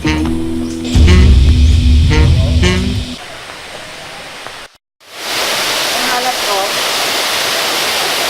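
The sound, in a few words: Zodiac Falls waterfall in Siquijor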